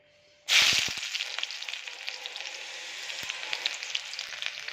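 A sudden loud sizzle bursts out as something hits hot oil, then settles into steady crackling frying with small pops, close and without talk.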